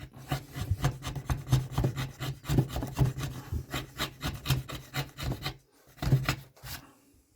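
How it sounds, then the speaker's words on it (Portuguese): A chisel cuts into a woodcut block with quick, regular scraping strokes, about two to three each second. The gouging sounds are close and dry, and there is a short pause near the end before a few final strokes. "E aí vamos passar o formão."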